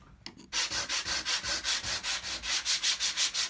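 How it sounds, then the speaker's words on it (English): A wooden kitchen worktop is sanded by hand in quick, regular back-and-forth strokes, a close, rhythmic scratchy rasp with no voices. "So here I am hand sanding our kitchen worktop."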